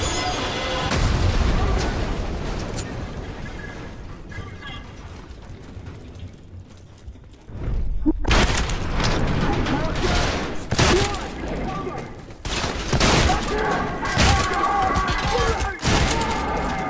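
Repeated loud shotgun blasts from the fire shotgun in the shooter game Trepang2 come in booming bursts, mixed with mechanical clatter and explosions, with a quiet lull in the middle.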